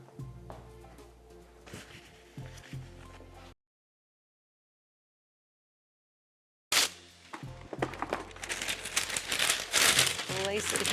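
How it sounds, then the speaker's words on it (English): Parchment paper crinkles close up as it is laid between layers of power bite snacks in a storage dish, with speech at the start, a stretch of silence, then loud bursty crumpling. "Now I like to use a little piece of parchment paper in between each layer."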